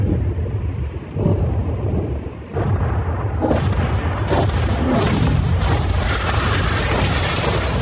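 A yacht blown up by an explosive charge, a deep rumbling boom with a sustained roar of blast and debris that swells and carries on loudly for several seconds.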